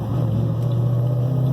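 A Ford Mustang engine idles with a low, steady rumble, close and continuous for the whole short stretch.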